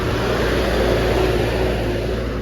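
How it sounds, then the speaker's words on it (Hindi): A vehicle engine drones steadily past a roadside stop on a mountain highway, a continuous moderately loud rumble with no clear rise or fade. "ट्रक की आवाज़, हाँ।"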